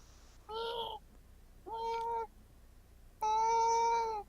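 A person's voice imitates a cat's meow three times, each a drawn-out mewing call, the last longest and loudest, heard close over a quiet room.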